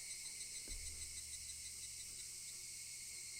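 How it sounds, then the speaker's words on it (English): Cicadas drone in a summer village scene from Higurashi: When They Cry, a continuous high, steady buzzing chorus with a low thump near the start. "Only the cry of the cicadas remained, annoyingly loud."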